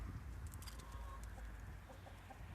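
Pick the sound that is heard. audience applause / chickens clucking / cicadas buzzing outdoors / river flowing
chickens clucking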